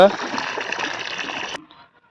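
Diluted fish amino acid solution is poured onto a chili field bed, a steady close splashing gush of liquid for about a second and a half that cuts off abruptly, leaving a brief faint trickle.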